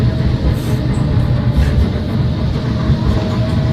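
Interior of a moving tram in Kharkiv on a cold winter morning, a loud continuous low rumble of wheels on rails with rattling and faint squeaks, steady throughout and close.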